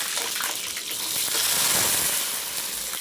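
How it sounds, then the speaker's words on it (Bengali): Chopped onion dropped into hot oil in a pan, a steady loud hiss and sizzle with bubbling crackle, close and continuous, no voices. "তেল গরম হয়ে গেছে, পেঁয়াজটা এবার দিয়ে দেব।"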